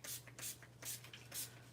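Short hissing bursts of shimmer spray misted onto scrap paper during card making, four quick puffs in a steady rhythm close by, over a low constant hum.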